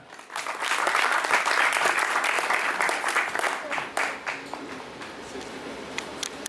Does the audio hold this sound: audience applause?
yes